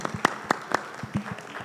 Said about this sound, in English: I hope you can join me in a round of applause to thank our amazing panelists today